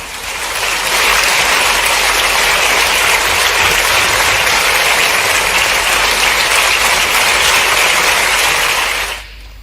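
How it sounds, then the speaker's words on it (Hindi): Loud, sustained applause from a large audience at a state government launch ceremony for a youth program, steady and dense for about nine seconds before cutting off abruptly. "जोरदार तालियों के साथ हम स्वागत करते हैं उमंग शिक्षा हेल्थ एंड वेलनेस कार्यक्रम का।"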